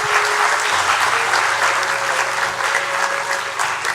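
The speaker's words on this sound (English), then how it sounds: "Annie Sumesa Rai, Rongri Zhu, let's give the upper six science class a hearty round of applause, please." Steady, dense applause from a graduation ceremony audience fills the whole stretch, a large crowd clapping warmly and continuously at a constant level.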